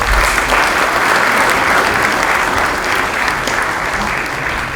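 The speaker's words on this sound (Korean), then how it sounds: "뜨거운 감사의 박수 부탁드리겠습니다." A hall full of lawmakers at a national assembly caucus meeting gives a warm round of applause, dense continuous clapping that holds steady and eases slightly toward the end.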